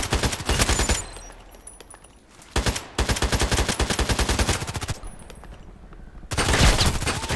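Rapid automatic gunfire from a video game rattles in several loud bursts, separated by brief quieter gaps, with sustained rhythmic volleys.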